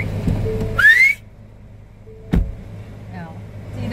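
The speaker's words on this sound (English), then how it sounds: "They hit that whistle" A whistle blown inside a car, a single rising shrill blast about a quarter second long, with idling car rumble and a voice underneath and a short thump later.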